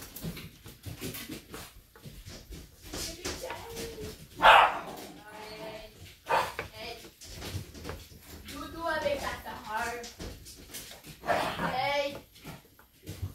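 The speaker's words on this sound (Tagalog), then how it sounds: "Nag-iingay na po ang aking mga dogs dahil nandiyan na ang kanilang mami." Several dogs barking and yipping in short irregular bursts at a home kitchen while someone talks over them, the barks moderately near and mixed with household noise.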